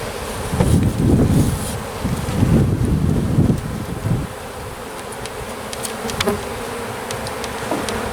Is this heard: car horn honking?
no